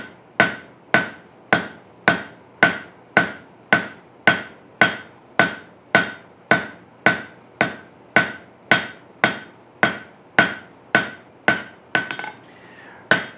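A hammer strikes hot steel on an anvil while a taper is forged for a candle holder, about twenty-five sharp, ringing blows in an even, steady rhythm, loud and close with no voices.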